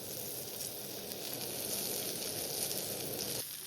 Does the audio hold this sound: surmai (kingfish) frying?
yes